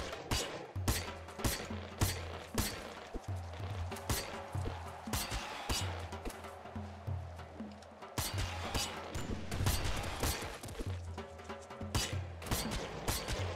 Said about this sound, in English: This weapon just absolutely tanks through these guys.